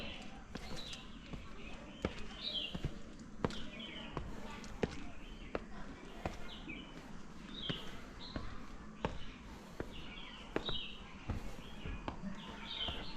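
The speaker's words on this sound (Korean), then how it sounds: "새가 막 지저귀고 있고." Birds chirp in repeated short bursts outdoors beside a Buddhist temple hall at Sarnath's Deer Park in India, with sharp knocks and clatter throughout at moderate volume.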